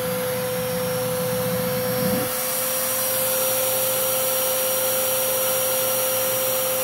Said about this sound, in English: the suction isn't really strong because we definitely have leakage through like the frontal motor chamber